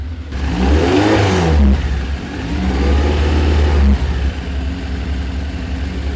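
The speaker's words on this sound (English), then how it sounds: "Let it warm up a little bit before we rev it a bit." A rally car engine warming up, running loud and close with a steady mid-range idle broken by two strong revs that rise and fall, then settling back to a rough, even idle.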